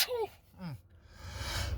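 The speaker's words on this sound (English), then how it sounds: "I'm about to sneeze here, guys." A man sneezes outdoors on a high-pollen day: a sharp gasping intake followed by a quick second burst, close and fairly loud, with breathy noise trailing after.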